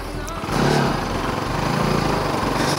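Bajaj Pulsar NS200 motorcycle engine rumbling steadily close by, rising in loudness after a moment, with a low throbbing tone and wind rush as it rides.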